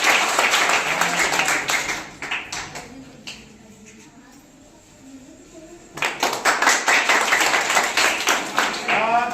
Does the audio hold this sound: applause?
yes